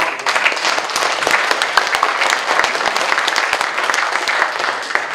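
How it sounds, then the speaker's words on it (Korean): Welcoming applause from a seated audience at an association's annual general meeting lecture, loud, dense clapping sustained evenly throughout with sharp individual claps standing out, no voices over it. "환영의 박수를 보내주시기 바랍니다"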